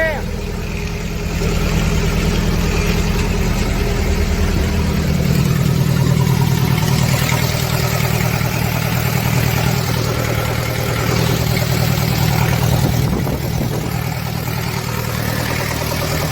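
A vehicle engine with a broken-off exhaust runs steadily while hauling potatoes during a potato harvest, a loud continuous rumbling drone with slight rises in revs throughout.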